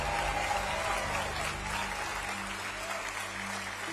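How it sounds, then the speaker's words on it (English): A large crowd cheers and applauds steadily, a dense wash of clapping and voices that stays loud throughout, with no clear speech on top. "The cheering of the crowd"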